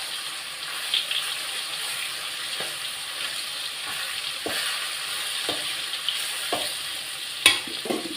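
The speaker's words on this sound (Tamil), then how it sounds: "நல்லா ஃபிஷ்ஷு ஃப்ரை ஆகிடுச்சு பாருங்கள்" Fish pieces frying in hot oil for fish chips, a steady close sizzle with a few sharper pops and crackles of stirring scattered through, no talking.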